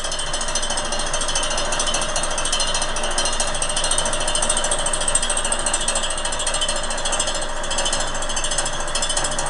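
A reel grinder sharpens a golf course mower reel fed back and forth by hand, giving a loud, continuous gritty rasp and mechanical clatter without pause.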